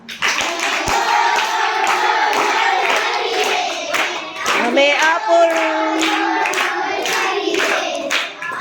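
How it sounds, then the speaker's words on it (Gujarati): Children in a primary school clap in rhythm while singing together, a quick steady beat of claps close by under the group's voices. "ચલો તાળી પાડીને ગાઓ"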